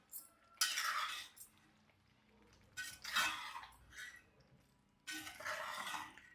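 Paneer gravy being stirred in a pan, with three bursts of scraping and clinking utensil strokes separated by short quiet gaps, close and fairly faint.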